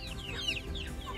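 A short burst of clucking from a pair of Bantam Cochin chickens, close and clear, with a few quick descending calls over faint background hum.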